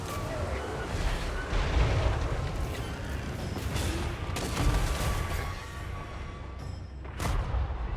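Artillery shots lobbed in a Total War: Warhammer 3 battle, dull booms and crashing impacts over a constant roar of fighting, with a few louder thumps standing out from the din.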